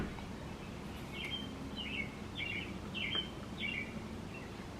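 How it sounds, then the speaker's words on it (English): Small birds chirping outdoors, a series of five or six short, bright chirps repeating at a steady pace over quiet low background noise. "I love listening to the birds"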